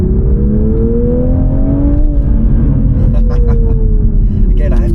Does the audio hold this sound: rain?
no